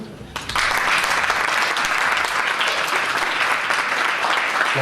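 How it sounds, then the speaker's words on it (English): A large audience at the first anniversary event of Stichting Unity in Diversity breaks into applause, the clapping starting abruptly after a brief quiet moment and then holding full and steady. "Let's give just a round of applause."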